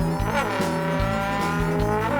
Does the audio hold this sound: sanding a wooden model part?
no